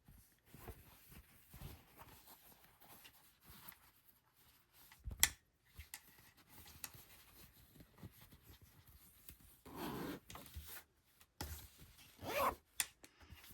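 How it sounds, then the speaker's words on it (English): An invisible zipper sewn into a garment is pulled, giving a few short, close zipping rasps among soft handling noises in a quiet room. "And here we have our invisible zipper."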